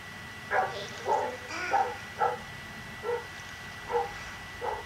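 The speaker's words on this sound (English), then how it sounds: "I hear barking even though I've just stopped being Wolf Link" A dog barks in the Twilight Princess video game, a series of about eight short, evenly spaced barks at moderate distance over a low steady background hum.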